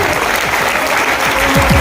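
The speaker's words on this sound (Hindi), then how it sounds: "लेकिन तालियां तो बजा सकते हैं।" An audience at a business plan presentation claps in a brief, dense burst of applause, steady and fairly loud across the short stretch.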